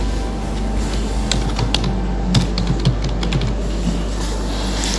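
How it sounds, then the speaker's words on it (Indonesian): Typing on a computer keyboard in a quiet room, a steady run of light clicking keystrokes that come in small quick bursts over a low hum, with no talking. "saya ketik di sini"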